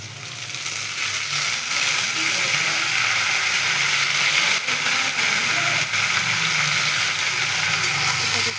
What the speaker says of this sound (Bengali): এটাকে হালকা করে ভাজবো, বেগুনটাকে আর আলুটাকে একসাথে